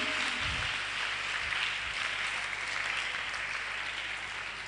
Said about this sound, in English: Please clap for Madam Dorothy.